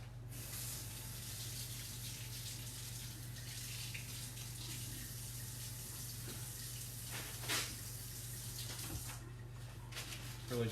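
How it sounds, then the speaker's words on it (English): Steady running tap water splashing into a sink while hands are rinsed, a continuous close wash with a low hum beneath and a few brief louder splashes near the end. "Give me one moment to wash my hands."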